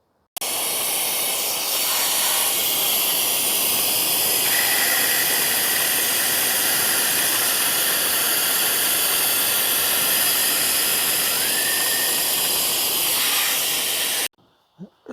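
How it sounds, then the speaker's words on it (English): Steady suction hiss from a pump drawing old brake fluid out of the master cylinder reservoir on a 2010 Toyota Camry 2.5, continuous and close for about fourteen seconds before cutting off abruptly. "you want to suck out as much of the old fluid as possible before you start the procedure"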